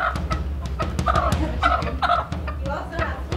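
A chicken clucks in short bursts close by, mixed with handling noise and a low background hum while people move around it.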